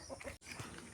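Chickens cluck near a chicken house on a farm in a short, close burst of fowl calls, broken by a brief moment of quiet.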